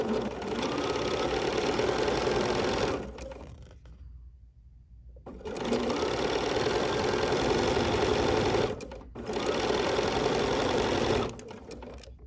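A sewing machine stitching with a couching foot runs in two steady bursts of fast, even stitching, separated by a short quiet pause and a brief stop near the end.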